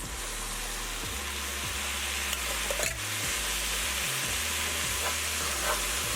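Fire-roasted tomatoes added to a pot of cooking vegan chili, giving a continuous close sizzle with repeated stirring and scraping strokes roughly once a second and no talking.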